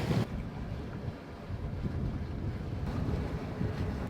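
Sailboat underway on the Intracoastal Waterway in North Carolina, heading into Belhaven on a calm evening, with steady wind rush across the microphone and low water and hull noise throughout, no voices.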